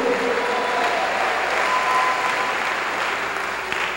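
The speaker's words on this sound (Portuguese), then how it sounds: "E tenta uma salva de palmas bem forte para Jesus" A church congregation breaks into strong, sustained applause for Jesus during a worship service, a dense steady wash of many hands clapping together for several seconds with no talking.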